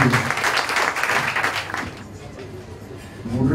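A convention audience in Gabon claps and cheers in loud, dense applause for the patriots Marceau Malékou and Ashley Moudunga, thinning out partway before swelling again at the end.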